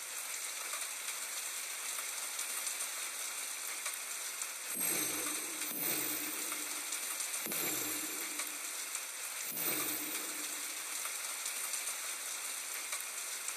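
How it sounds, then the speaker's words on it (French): Steady rain falls throughout, a dense continuous hiss with a few brief louder swooshes and low thumps breaking through. "Mais pas de ma maison, hein, mais il pleut."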